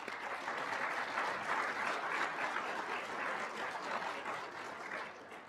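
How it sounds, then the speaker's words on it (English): Sustained applause from an audience at a student honor society induction ceremony, a dense, steady wash of many hands clapping that holds evenly throughout before easing slightly at the end. "Can we please have a round of applause?"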